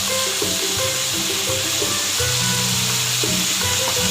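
Vegetables for chicken macaroni fry in a pan with a loud, continuous sizzle and hiss, close up, over a low steady hum, with no voices.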